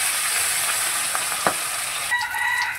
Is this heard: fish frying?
yes